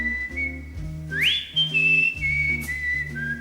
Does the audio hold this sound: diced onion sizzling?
no